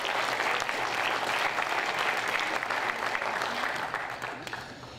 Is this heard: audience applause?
yes